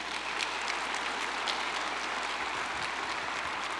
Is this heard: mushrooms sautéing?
no